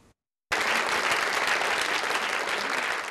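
An audience claps loudly and densely at a BBC event honouring Iranian women, the applause starting abruptly after a brief silence and holding steady, close and continuous, to the end.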